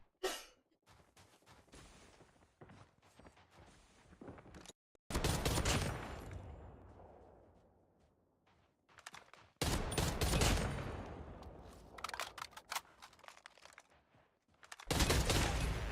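Call of Duty Mobile gunfire comes in rapid bursts and short volleys of shots, some sharp and close, with quieter stretches of scattered fire in between.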